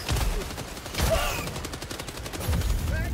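Scattered gunfire in the video game Helldivers 2 during a fight with a charging monster, short bursts of shots mixed with game noise and chirping effects, moderately loud and close.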